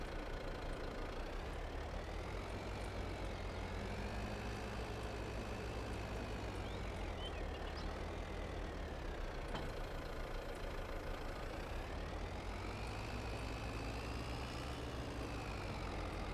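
A tractor engine idles in Farming Simulator 22, a steady low drone with gently wavering pitch that runs unbroken throughout, with no voices.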